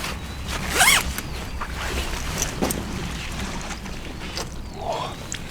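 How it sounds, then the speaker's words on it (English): A zipper on a fish weigh sling holding a big fish at Myths Pool in Essex is drawn shut in one quick rasping pull, followed by quiet outdoor rustling and faint handling noises. "Right, let's zip her up"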